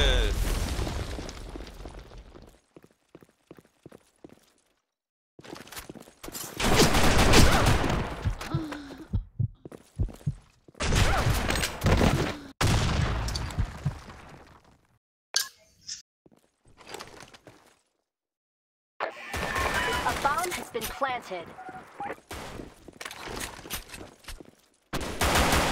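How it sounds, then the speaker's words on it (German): Gunfire in a clan war match on the Broken City map, bursts of rapid shots and bangs separated by silent gaps, with players talking in between. "Ja, wir schießen rum, Mann."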